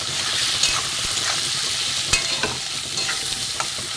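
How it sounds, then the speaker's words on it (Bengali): Ginger paste, cumin, coriander, chilli and turmeric powders stir-fried in a pan for a homestyle Bengali fish curry, a steady close sizzle broken by the scrape and tap of a spatula several times, with no talk. "এবার মশলা দিয়ে কষে নেব।"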